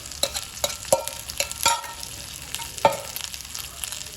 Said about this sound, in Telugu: ఈ కోకోనట్ అనేది కూడా ఒక మంచి కలర్లో వచ్చేలాగా ఫ్రై చేసుకుందాం.